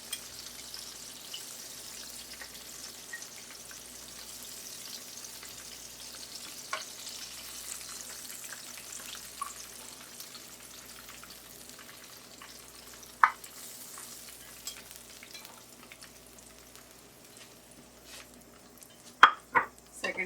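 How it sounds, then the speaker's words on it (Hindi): Shrimp frying in a pan for shrimp fried rice, a second batch going in: a faint, steady sizzle runs throughout, broken by a few sharp clinks and taps, with no voices. "सेकंड बैच भी फ्राई कर लेंगे।"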